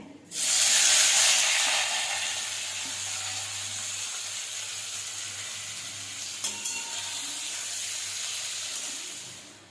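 Whole spices frying in hot rice bran oil in a wok for a spicy three-chili chicken masala, a loud steady sizzle that bursts in near the start and holds throughout, with a few faint clinks partway through.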